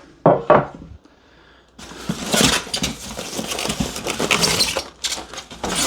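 A Ninja Sizzle Pro XL griddle plate is set down, giving clanking, scraping metal-on-metal knocks and rattles with a couple of sharp close bumps and a longer stretch of shuffling handling.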